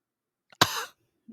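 A single sharp cough from a man on a talk show, loud and close, lasting under half a second, with brief quiet and a faint murmur after.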